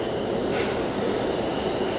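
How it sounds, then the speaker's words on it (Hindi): A New York City subway train rumbles loudly and steadily, wheels clattering and squealing on the rails, with hissing noise swelling on and off and no voices. "एंड ये देखिए ये है न्यूयॉर्क की सबवे"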